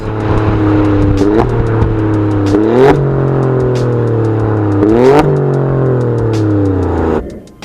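A 510-horsepower 2.9-litre bi-turbo V6 in an Alfa Romeo Stelvio Quadrifoglio revs hard and close, its loud engine note climbing repeatedly through several quick gear changes before easing off at the end.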